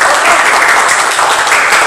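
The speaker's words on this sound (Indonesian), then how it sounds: "Tepuk tangan." An audience at a village screen printing training claps together, a loud, dense burst of applause that fills the whole moment without pause.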